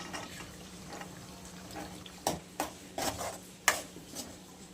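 Green peas are stirred in a pan of spiced masala and oil: a handful of sharp spoon scrapes and clinks against the pan, fairly quiet, over a low steady background.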